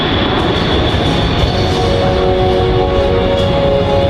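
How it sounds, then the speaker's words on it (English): A C-17 Globemaster III military transport jet flies a full-flap demonstration approach at the Dover Airshow, giving a loud, steady, continuous engine roar with a broad rumble and whine that holds throughout. "The aircraft is now maneuvering to demonstrate a full flap approach to a simulated short field runway."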